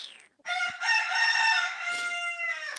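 A farm rooster among chickens gives one loud, sustained crow, close and clear, stretching across most of the stretch with a brief gap before it starts.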